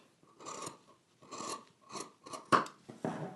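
Scissors trim sewing fabric for a Mimi G x Simplicity 9463 pattern, heard as a series of close crisp cutting strokes with short pauses between them. No one talks over the snipping.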